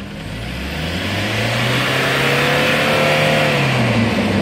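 A 2008 Hyundai Starex van with 240,000 km on it revs during an emissions smoke test, its engine rising from a low idle into a sustained loud, close roar with no talking.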